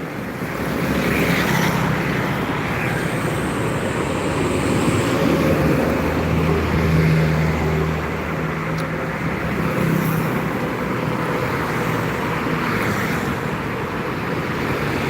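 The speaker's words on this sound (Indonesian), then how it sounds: "Baru truk aja yang melintas nah." A truck passes along a roadside where people wait for buses, its low rumble swelling in the middle and then fading beneath steady wind and traffic noise. No one speaks.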